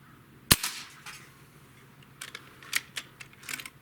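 A Beeman Commodore Model 1365 air pistol fires a single sharp, close crack, followed by faint scattered clicks and taps.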